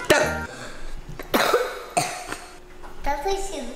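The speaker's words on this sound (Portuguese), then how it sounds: "Dá pra parar de tossir no começo do meu vlog?" Several sharp, loud coughs break out close to the microphone in quick bursts, with short gaps between them and some throat clearing.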